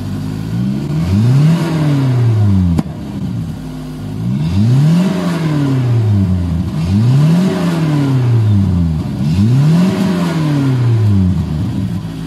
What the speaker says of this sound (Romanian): Arată-ne și nouă cum faci treaba cu pops and bangs-ul